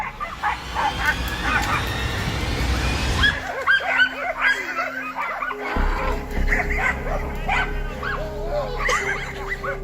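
Hunting dogs chase a wild hog, giving repeated sharp barks and yips with some whimpering, loud and close, amid scrambling outdoor commotion.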